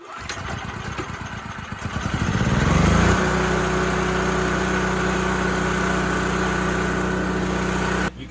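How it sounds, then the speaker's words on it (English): A generator backing up an off-grid solar power system in Costa Rica cranks and rumbles unevenly, then settles into a loud, steady engine drone close by. "Probably hear the generator in the background."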